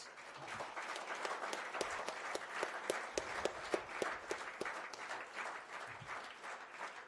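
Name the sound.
round of applause at award ceremony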